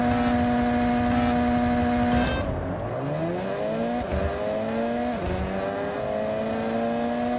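A car engine in the racing video game Forza Horizon revs hard and shifts through gears, pitch climbing repeatedly in steady, close, continuous roaring with no voices.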